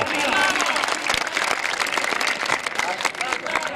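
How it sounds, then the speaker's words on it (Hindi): A large crowd at an outdoor kabaddi match in Qaim Nagar, Jhang, Punjab, gives a loud, sustained round of applause while an announcer keeps talking over the clapping through a loudspeaker. "पठान वास्ते जोरदार तालियां।"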